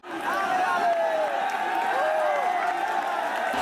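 Large protest crowd at Jantar Mantar during a police lathi charge, with people climbing trees and poles; a dense, continuous roar of many voices shouting and murmuring, loud and close, with occasional raised cries rising above the din.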